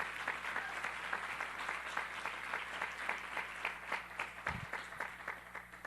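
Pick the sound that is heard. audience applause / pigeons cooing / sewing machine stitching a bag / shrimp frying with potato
audience applause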